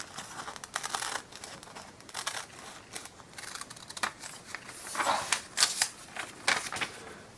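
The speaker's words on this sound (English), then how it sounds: "I think maybe we want to cut down here a little bit, so let me do that." Scissors cutting around a paper figure of a pretend paper person, making a quiet run of crisp snips and rustles at an uneven pace, close by with no talk.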